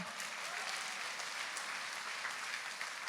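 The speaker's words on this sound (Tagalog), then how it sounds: "Ang hina naman ng palakpak." Soft, steady applause from a church congregation, an even patter of many hands clapping at a fairly low level throughout.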